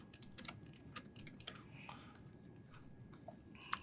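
Code being typed on a computer keyboard, a quick irregular run of light key clicks with a few sharper taps, close and fairly quiet, followed by a brief pause and a final cluster of keystrokes.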